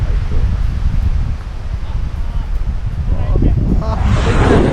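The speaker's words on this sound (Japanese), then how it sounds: "台風だな、台風。" Strong, typhoon-like wind gusts across an open golf course, buffeting the microphone with a low, rough roar that swells toward the end, and a person talks briefly over it.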